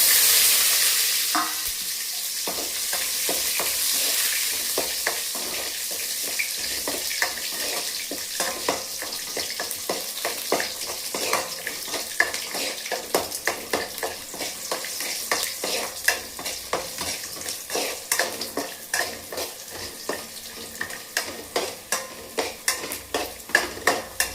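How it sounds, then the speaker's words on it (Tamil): Cumin seeds and garlic sizzle in hot oil in a pan for Nelli rice, with a steady hiss and a run of scraping stirs that grow sharper and more rhythmic toward the end, close up and with no voices. "சீரகம் போட்டுக்கிறோம். அடுத்தது பூண்டு போட்டுக்கிறோம்."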